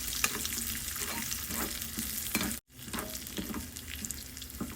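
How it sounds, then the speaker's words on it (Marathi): Raisins and dry fruits fry in a pan with a steady, close sizzle and the scraping of stirring, broken by a brief silent gap midway; no voices. "किसमिस हे वन फोर्थ कप आणि ही सारोळी घेतली एक मोठा चमचा आणि आपण परतून घेऊया हलकंसं"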